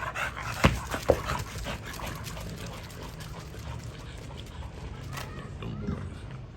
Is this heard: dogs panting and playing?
yes